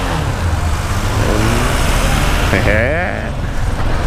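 A Yamaha XT660 motorcycle engine revs loudly and rises in pitch amid road noise, with someone talking over it.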